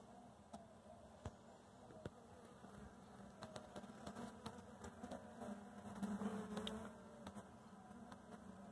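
Honeybees buzzing around an open hive during an inspection, a faint steady hum with scattered sharp ticks and a louder swell near the end, no talking.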